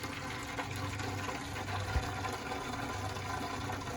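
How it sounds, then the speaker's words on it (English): Home brew Mosaic IPA is siphoned through a tube into a fermenter in a kitchen, making a faint, steady trickle of flowing liquid with no talk. "I'm going to go ahead and go siphon it from there into here."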